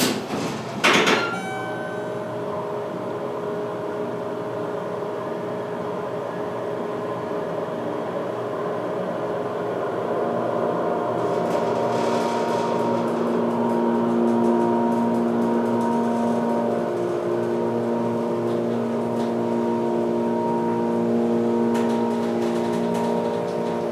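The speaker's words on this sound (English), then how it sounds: "We're gonna have a good motor going up," A Schindler hydraulic elevator at a Macy's store runs its motor on the way up, a steady droning hum with a strong pitched tone that swells slightly, after a sharp thump at the start.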